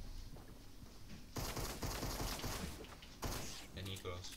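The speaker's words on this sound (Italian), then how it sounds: "Mi stanno sparando." Gunfire in Fortnite, bursts of rapid shots crackling in two clusters over a game background, with a voice talking softly beneath.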